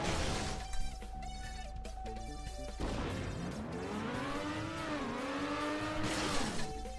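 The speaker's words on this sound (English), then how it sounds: "I think the engine sound in this game is annoying" A car engine in a racing video game drones and whines steadily, its pitch rising and falling through gear changes, with a few sharp knocks and a tonal chime near the start, and no talking.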